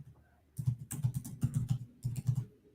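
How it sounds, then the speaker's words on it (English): Fast computer keyboard typing in bursts of clustered keystrokes, close and fairly loud, heard over a call with brief pauses between runs and no talking. "I can hear Amy typing now"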